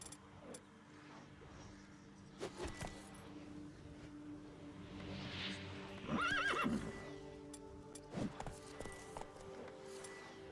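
Roach, the horse in The Witcher 3: Wild Hunt's Blood and Wine expansion, gives a loud whinny midway through, with hoof clip-clops and scattered game sounds around it and no voices.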